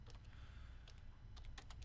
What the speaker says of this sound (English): let me go ahead and type that